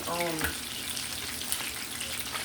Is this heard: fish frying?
yes